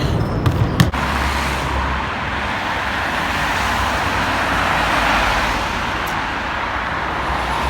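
Road traffic beside a parked car in Mersin: a few sharp knocks at the start, then a steady wash of passing vehicles and engine rumble at moderate distance, with no talk.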